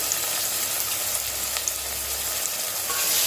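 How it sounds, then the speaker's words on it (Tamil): Chopped onions sautéing with a little salt in a pan for prawn biryani give off a steady, soft sizzle that stays even and close throughout, with no talking. "இப்போ நம்ம வெங்காயத்தை நல்லா வதக்கிக்கலாம்"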